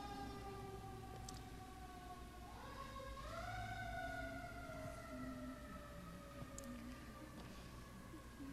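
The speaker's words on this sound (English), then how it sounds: "we just send a blessing to wherever that siren is going" A faint, distant emergency-vehicle siren wails with slow rising pitch sweeps over steady background hum, heard indoors at a service and never loud.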